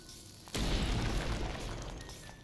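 A bomb blasts open a wall in The Legend of Zelda: Link's Awakening, Eagle Tower area, one sudden loud boom with a rumbling low-end tail that lingers for about two seconds.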